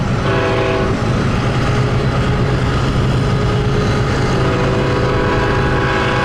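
Montana Rail Link SD40-2 diesel locomotives heard while being paced alongside, a loud continuous engine drone and rolling rumble with steady wheel noise throughout, no voices.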